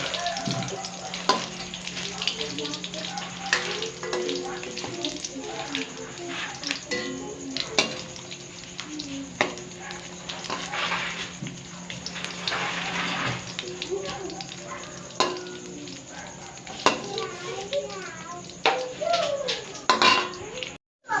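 Food frying and being stirred in a pan for a home-cooked Filipino ulam dish, with steady sizzling and the scrape and clatter of a utensil against the pan over running background noise.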